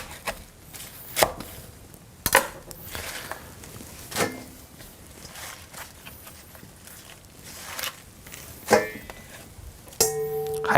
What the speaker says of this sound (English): So I just chop everything with the knife.